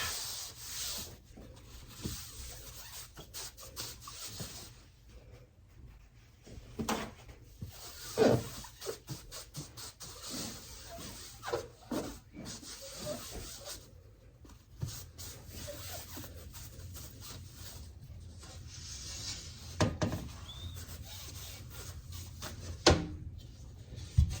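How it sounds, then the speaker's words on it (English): A cloth rubs and wipes parts clean with rubbing alcohol, producing soft, uneven scrubbing strokes with occasional light knocks and handling clatter, faint and close, with no voices. "I'm taking rubbing alcohol and cleaning it and then letting it dry"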